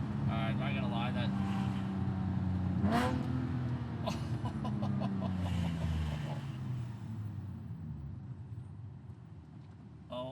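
Porsche 997.1 Carrera S flat-six with race headers and no catalytic converters, revving hard with a sharp rising blip and rasping exhaust, then settling to a loud throbbing idle close by, with faint voices underneath.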